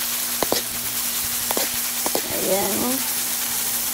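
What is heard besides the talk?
sautéing salted black beans and banana blossom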